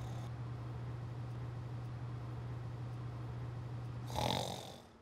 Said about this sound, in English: I've been hearing you snore all night.